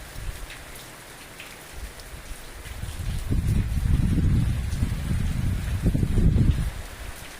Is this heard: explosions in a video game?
no